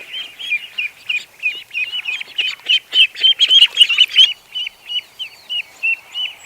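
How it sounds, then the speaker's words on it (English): Many little ducklings peeping in rapid, high chirping bursts, close and clear, with a denser cluster of calls in the middle before the rhythm thins back to regular repeated peeps. "There's a ton of little duckies everywhere."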